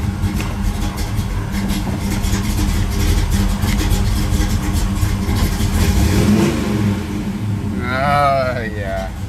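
A cold Camaro engine runs roughly and loudly up close, its rumble surging unevenly as it struggles to hold idle, with a voice speaking over it near the end.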